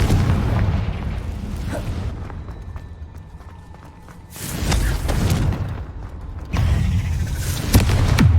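A Confringo fire spell goes off in Hogwarts Legacy, a loud, close burst of booming blasts with crackling debris, then a second explosive boom after a quieter creaking lull, set over a dense game soundscape with no speech.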